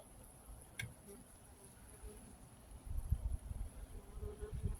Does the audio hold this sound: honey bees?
yes